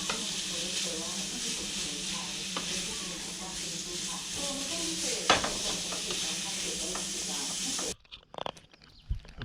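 Food fries in hot oil in a pan and is stirred. A loud, continuous sizzle and hiss runs under occasional scraping stirs, then stops abruptly, leaving a few faint clatters.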